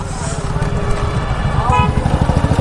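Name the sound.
motorcycle engine starting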